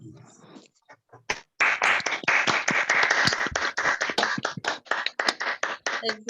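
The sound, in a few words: audience applause at online poetry open mic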